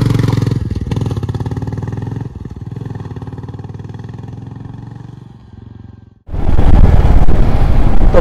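A Royal Enfield Classic 350 thumps along with a steady, loud single-cylinder engine note, fading briefly before a sharp surge into heavier, closer engine roar and wind rush as the motorcycle rides onto a highway.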